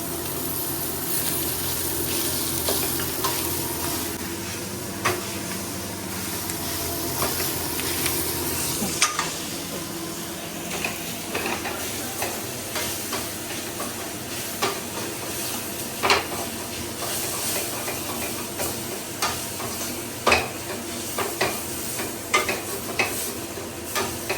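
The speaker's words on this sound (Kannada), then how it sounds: "ಈಗ ನಮಗೆ ಈರುಳ್ಳಿ ಹಸಿಮೆಣಸಿನಕಾಯಿ ಎಲ್ಲ ಚೆನ್ನಾಗಿ ಫ್ರೈ ಆಗಿದೆ." Chopped onions and four or five cut green chillies fry in a pan, a steady close sizzle with frequent scraping clicks of a spoon stirring throughout.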